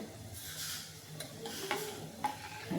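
Dal being stirred after ginger, chilli and garlic paste goes in, with soft scraping swirls and a light sizzle from the pot, a few sharp clinks of the spoon against the vessel near the end.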